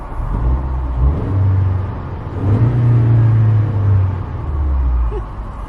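A Toyota Tacoma TRD Off Road pickup truck engine rumbles and revs up from close by, its low exhaust note swelling and easing steadily throughout.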